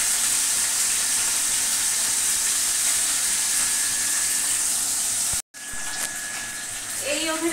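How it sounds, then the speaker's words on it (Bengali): Mola fish frying in hot oil in a wok, a loud steady sizzle and hiss that fills the scene, briefly cut off for a moment, then resuming with a few clinks near the end. "কড়াই বসিয়ে দিয়েছি, তেল গরম হয়ে গেছে। এবার দিয়ে দেব এই মলা মাছগুলো।"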